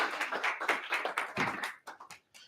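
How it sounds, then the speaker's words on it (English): A small meeting audience claps for guests being invited on stage, a brief burst of close, uneven handclaps that thins out and stops after about two seconds. "Give them a round of applause"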